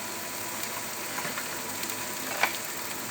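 Onions frying in a pan for macaroni, a steady close sizzle with a soft spitting crackle and one brief sharper pop, no voices.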